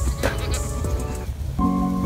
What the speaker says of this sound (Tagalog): Kami na hong kambing dito sa farm.